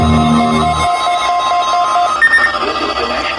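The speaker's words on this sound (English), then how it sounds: "It failed and had a seizure during the EAS tones." Weather radio EAS alert header tones failing mid-header, a loud electronic warble of shrill beeping tones that breaks off partway, leaving a steady broadcast hum with a garbled shifting tone.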